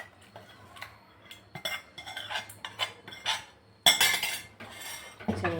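A spoon scrapes and clinks against a metal pot as tempering is stirred into bisi bele bath. Several bursts of clattering and stirring come close, with pauses between them and no voices.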